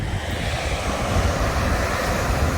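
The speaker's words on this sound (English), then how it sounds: "with the sound of the waves" Ocean waves breaking against a cliff make a steady, dense roar of surf that stays loud and continuous throughout, with no voices.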